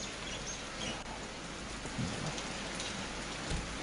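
Rain falling on a highway area in Banihal, a dense, steady hiss of drops pattering on surfaces, continuous and close with no voices.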